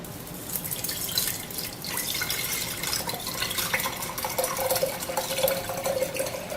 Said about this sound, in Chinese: 那我们再缓缓的倒入刚才已经萃取8个小时的冰咖啡